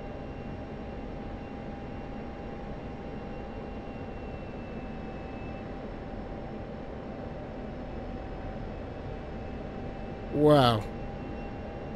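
An F-16 Viper jet engine in the DCS World flight game holds a steady, even drone from start to finish, and a voice exclaims briefly near the end.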